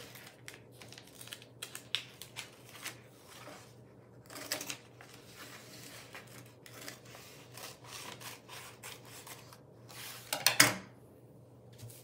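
Scissors cut through paper for a handmade meandering book, giving a run of short snipping and rustling strokes at close range, with a louder burst of cutting near the end and no talk.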